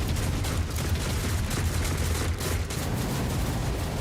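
Turrets firing in the video game Warhammer 40,000: Rogue Trader, a dense, continuous barrage of rapid gunfire and booms that stays loud for the whole stretch, with no talking.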